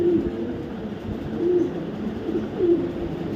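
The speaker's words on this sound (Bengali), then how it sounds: "আমার অনেক পছন্দের একটা মাদি কবুতর অনেক পছন্দ" A female racing pigeon coos in low repeated calls, three or four soft phrases spaced about a second apart, close by over a steady background hum.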